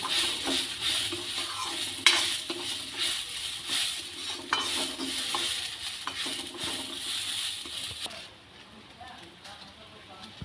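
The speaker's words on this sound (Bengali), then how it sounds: "ভালো করে চালটাকে ভেজে নেবো ঘি দিয়ে।" Gobindobhog rice is fried in ghee with bay leaves, cardamom and cinnamon, giving steady sizzling and repeated scraping stirs in the pan, with voices over it until the sound drops away near the end.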